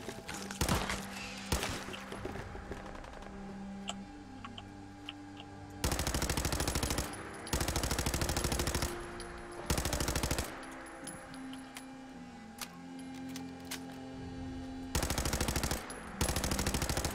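Automatic gunfire from Fallout 4 rattles in loud repeated bursts, several sustained volleys broken by quieter gaps carrying game music and ambience.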